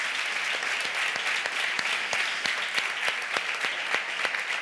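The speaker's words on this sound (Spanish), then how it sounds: "Si us plau, un fort aplaudiment per ell." An audience at the Perico Que Vola awards show applauds steadily, a dense wash of hand claps with sharper individual claps standing out, sustained throughout at moderate loudness.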